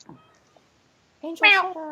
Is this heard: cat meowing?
yes